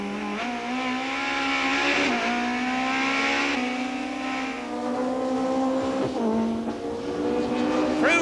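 A BTCC touring race car from the 1991 season brakes and then accelerates hard, its engine note dropping and climbing again loud and close, with tyre noise and a commentator's voice faint underneath.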